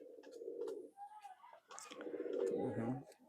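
A female Chot Madi pigeon from Khulna coos in close, soft, rhythmic bursts, with brief pauses between phrases and some quieter background sound.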